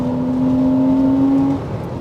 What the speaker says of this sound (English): Oh, come on, let's rev it out.